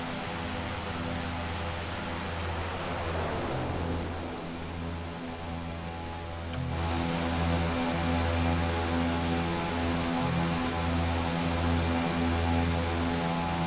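A Carenado B1900D twin turboprop taxiing in X-Plane 12 drones with a steady close engine hum and throbbing propeller tones, a high whine sweeping down early on, then the engines settle into a slightly louder, even roar.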